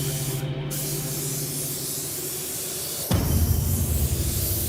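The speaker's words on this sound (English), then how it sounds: "I'm going to jump into the booth and start spraying right away" A spray gun painting a car in a paint booth gives a continuous loud hiss that grows stronger partway through and carries on steadily to the end.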